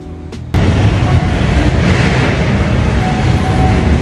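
An LRT train rumbles loudly through Blumentritt Station, a sudden burst of heavy rolling noise that stays constant and close, with no talking.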